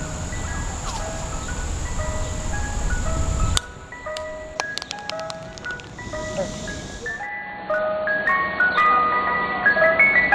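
Ice cream truck jingle playing melodic chiming notes from a street, moderately loud at first, then breaking into scattered tones before the tune resumes near the end.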